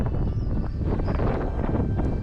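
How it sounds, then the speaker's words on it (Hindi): Strong wind blows outdoors in Yakutia, Siberia, a steady, rough broadband roar buffeting the microphone throughout, with no voices. "काफ़ी तेज हवा चल रही है यार"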